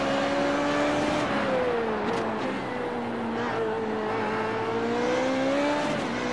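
Race car engine in the iRacing sim, revving hard in a steady, high-pitched drone that holds near the limiter and wavers slightly in pitch, loud and continuous with faint tire and track noise beneath.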